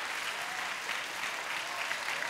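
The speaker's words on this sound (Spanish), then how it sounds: "¿Pero por qué aplaudís esto?" Steady audience applause filling a live stand-up comedy show, a dense continuous patter of many hands clapping at even loudness throughout, with no voices heard over it.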